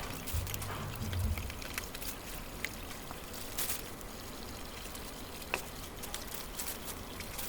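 Water runs and splashes while an old wooden mortar, long unused, is rinsed during washing with soap and shampoo outdoors on a farm; a steady wash of flowing water with occasional louder splashes, no talking.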